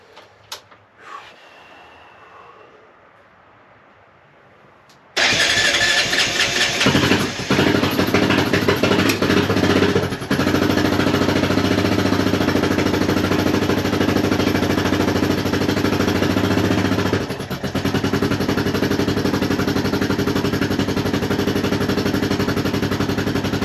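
A rebuilt Honda Foreman ATV engine cranks and fires after a few seconds of quiet, then runs loud and steady with a rough, pulsing idle and a brief dip before settling back.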